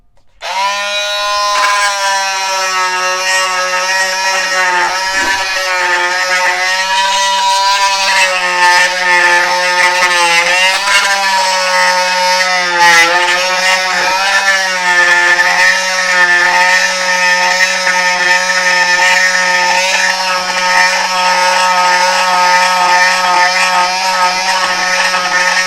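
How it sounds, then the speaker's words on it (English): An ALDI Workzone 12V cordless multi tool with a scraper attachment runs continuously while scraping mixed epoxy off a surface, a loud, steady high-pitched buzzing drone that stays alone and unbroken throughout. "I'm just going to test the scraper on this epoxy what I mixed up on here, see if that will scrape that off"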